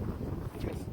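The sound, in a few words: wind blowing at a park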